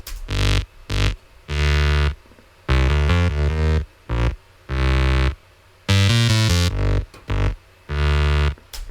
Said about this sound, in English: for the big reveal, we have the big fart bass.